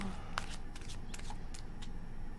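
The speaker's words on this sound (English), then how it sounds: "One more shuffle." A deck of tarot cards is shuffled nearby, with a handful of faint, crisp papery snaps and riffles spaced irregularly over a quiet background.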